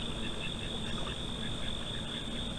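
Ducks quack at night amid a constant background of insects and frogs. The quacks are faint and blend into the dense, steady chorus, and nobody speaks.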